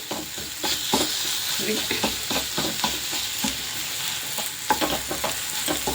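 Masala for a rustic-style egg curry fries in a pan, hissing steadily and close while a spoon stirs it in quick repeated scrapes throughout.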